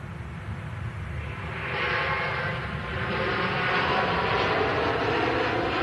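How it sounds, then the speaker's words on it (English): A Qatar Airways Airbus A350 takes off from runway 23R at Manchester Airport, its broad jet roar building steadily and staying loud and continuous at a moderate distance, with no talk. "It's the Qatar Airbus A350 on the return leg to Doha here at Manchester Airport from 23 right."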